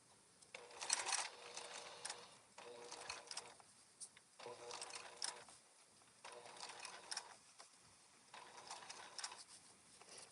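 A sewing machine stitching through many thick fabric layers for a travel organizer, running in short bursts with brief pauses between them, fairly faint and close, with no speech.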